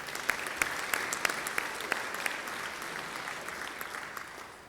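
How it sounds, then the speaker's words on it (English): Applause from a small gathering at a Rotary club meeting for its corporate members, a steady, fairly faint patter of clapping hands with a few sharper individual claps, lasting several seconds without talk. "So how about a round of applause for our corporate members?"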